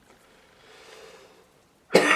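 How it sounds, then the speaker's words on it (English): A single sharp cough bursts out loudly near the end, close to the microphone, after a stretch of quiet room sound, heard during a watercolour painting session. "sorry about the cough"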